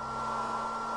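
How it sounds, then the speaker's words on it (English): A hairdryer runs in Payday 2 with a steady, even whirring hum and a strong tonal whine, constant and unbroken for the full second. "Now that hairdryer should pull him in here, we can take him out."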